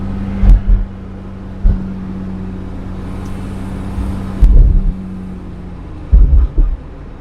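A 1965 Wolseley 24/80 six-cylinder engine idles with a steady low hum, punctuated by a few brief louder thumps and bursts, heard up close without any talking.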